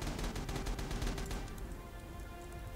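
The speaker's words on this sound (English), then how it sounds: "that's blind shooting" Rapid bursts of gunfire ring out in the World War II shooter Rising Storm, fairly quiet and distant, as blind fire rattles for over a second and then thins into a low background rumble.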